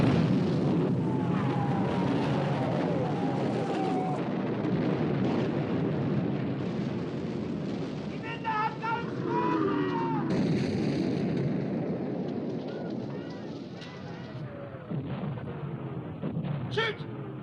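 Naval gunfire and shell hits in the 1960 British wartime drama Sink the Bismarck!, dense rumbling booms and blasts over continuous battle noise, with voices shouting orders amid the din.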